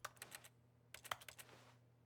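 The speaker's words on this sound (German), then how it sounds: "Drücke Q auf deiner Tastatur" Key presses on a computer keyboard during The Stanley Parable: a cluster of quick, crisp taps, a pause, then another burst of clicks with one sharper press, close and fairly quiet with no talking.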